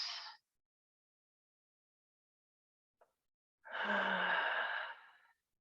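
Slow breaths during a guided breathing exercise: a short airy exhale, near silence, then one long, close sighing breath lasting about two seconds, with no talking.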